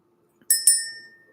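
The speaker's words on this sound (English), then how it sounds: "let's go ahead and ring the bell" A small bell is rung twice in quick succession in a quiet room, each bright ring clear and close, the second ringing out and fading slowly.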